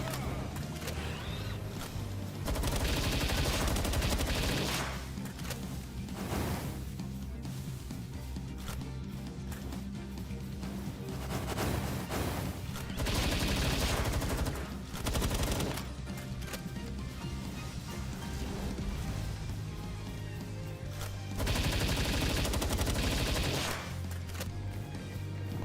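Sustained gunfire during a Palworld boss fight at a tower, with long rapid bursts of shots repeating in waves over a continuous roar of game sound.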